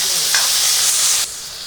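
Onions frying in a pan for a Karnataka-style dal curry, a loud steady sizzle close by that drops to a softer hiss near the end.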